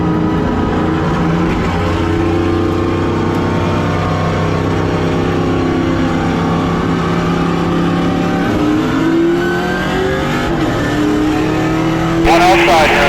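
Race cars roar around the track at the Cars Tour West finale at Z-Max, a loud continuous engine drone with pitch rising and falling as cars accelerate and pass, while a voice talks over it.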